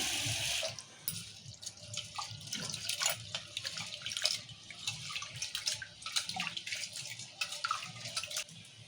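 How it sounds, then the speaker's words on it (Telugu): Water splashes and pours into a bowl as moong dal is rinsed, with sloshing, dripping and small clinks, close up and continuous. "ఇప్పుడు పెసరపప్పు కడుక్కుందాము మంచిగా నీరు పోసి."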